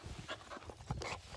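A dog pants in quick, rhythmic breaths close by while tugging at a person's T-shirt, with faint scuffling and movement noise around it and no talk.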